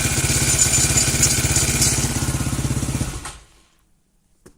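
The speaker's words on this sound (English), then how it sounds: "Now this piece of the exhaust is just rumbling around." Running small engine with a loose exhaust piece rattling, a steady close rhythmic rumble and clatter for about three seconds before the engine cuts off and falls quiet.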